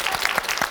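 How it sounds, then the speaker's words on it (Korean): Brief burst of studio audience applause on a Korean KBS talk show, steady dense clapping filling the whole moment with no voices. "박수를 보내주세요."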